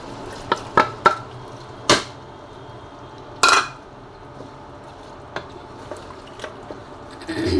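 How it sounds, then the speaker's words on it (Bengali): Soaked mung dal goes into browned meat in a pot and gets stirred, giving a few sharp utensil knocks and clinks early on, then sparse, quieter scrapes and taps against the pan. "এখন আমি এতে মুগ ডালটা ভিজিয়ে রেখেছিলাম, সেই ডালটা দিয়ে দেবো।"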